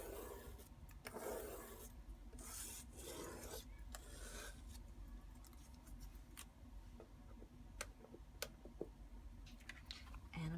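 Wet sanding across the emulsion surface of an altered photograph, a steady rasping scrape in repeated strokes, close and continuous, with a few sharp ticks near the end.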